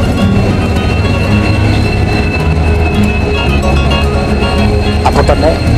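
The Madurai Express rolls through Bhagavathi Puram railway station, loud and close, its rumbling wheels and clattering carriages sounding continuously with a brief high squeal near the end.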